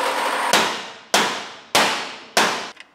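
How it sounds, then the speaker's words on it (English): Four loud metallic hammer blows land on a lawnmower muffler at a steady pace about half a second apart, each ringing out briefly before the next strike. "Cut it here, and then hammer it down really hard."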